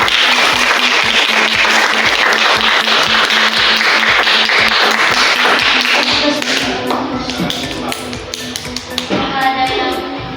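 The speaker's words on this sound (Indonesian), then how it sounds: "tepuk tangan untuk kelompok" A classroom group claps in a fast, steady rhythm for a student group after its presentation, loud and close, then breaks into scattered, fading claps.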